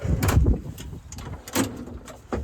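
A large tool drawer on a field service truck sliding open with a heavy metallic thud, followed by a couple of lighter clunks and rattles close by.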